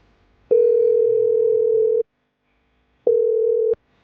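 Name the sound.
telephone ringing tone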